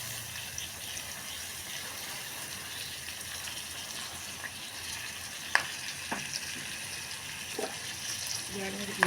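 Onions frying with spice powder, curry leaves and tomato in a pan for chicken with green peas give a steady, moderate sizzle with a few sharp clicks and stirring knocks, while a person talks softly over it.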